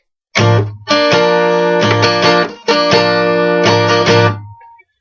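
A distorted electric guitar plays short chord bursts in a choppy rhythm, with the bottom string fretted hard by the pinky and the top two strings muted by the thumb, loud and close with no voices.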